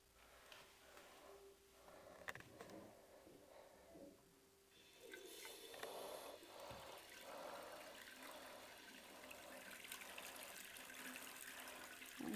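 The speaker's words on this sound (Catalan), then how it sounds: "El Bun beu aigua del bidet." A dog drinks water from a bidet, with running water trickling and splashing quietly, wet lapping bursts rising in the second half over the steady flow.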